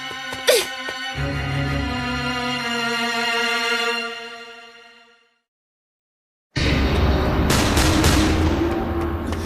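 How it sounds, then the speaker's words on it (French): Sharp gunshot bursts crack out over a sustained musical tone, fade to silence, then a dense loud barrage of gunfire resumes. "J'ai entendu des coups de feu."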